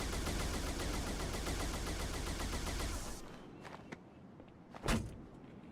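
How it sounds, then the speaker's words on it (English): Covenant plasma turret, the shade or C-gun, from the video game Halo 2, firing a dense, loud continuous barrage for about three seconds, then cutting off to sparse clicks and a single sharp burst. "Plasma turret."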